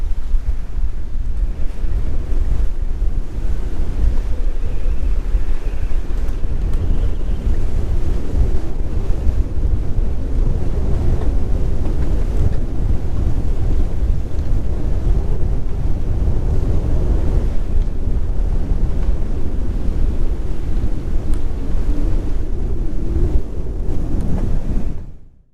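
Strong wind, about 25 knots, roars on a sailboat's microphone, with waves and surf rushing beneath, loud, continuous and close for the whole stretch before cutting off at the end.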